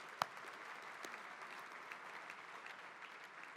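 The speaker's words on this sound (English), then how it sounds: "A round of applause, ladies and gentlemen." Audience applauding at an awards luncheon, steady soft clapping from a crowd heard at a distance and fairly faint, with one sharp louder clap near the start.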